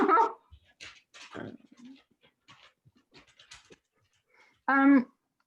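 A dog pants and whimpers in short bursts, then gives one loud close bark near the end, with quiet pauses in between.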